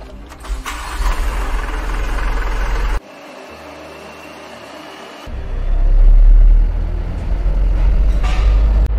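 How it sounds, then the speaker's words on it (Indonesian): Mitsubishi Fuso Canter Euro 4 truck starting up: a short cranking and engine run, a sudden drop to a low idle rumble, then the diesel revs up and settles into a loud steady drone nearby. "untuk selanjutnya kita langsung saja coba mengendarai Canter Euro 4 ini"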